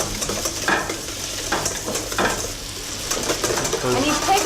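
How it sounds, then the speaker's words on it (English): Figs basted with butter in a hot pan in a Lyon restaurant kitchen, a constant close sizzle broken by repeated spoon scrapes and swishes, with a faint voice underneath. "And now he's basting the figs with the butter."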